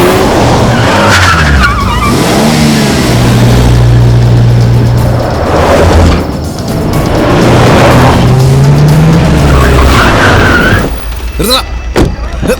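Action-movie chase scene: a car roars off in pursuit with loud engine revving and repeated tire skids and squeals, close and intense, with brief voices near the end.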